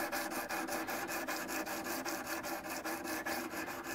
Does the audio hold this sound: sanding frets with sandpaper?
yes